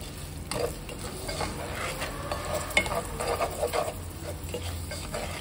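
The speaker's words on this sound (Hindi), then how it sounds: "तकरीबन 2 मिनट तक हम इसको भूनेंगे इस मसाले को।" Masala of salt, crushed red chili and coriander sizzles and crackles softly in a pan for a Bihari-style brinjal fry, with intermittent stirring scrapes, fairly quiet and close.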